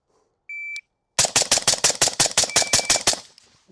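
A suppressed rifle with a flow-through suppressor fires a rapid string of about twelve loud, evenly spaced shots to empty a magazine, preceded by a brief electronic beep; no talking.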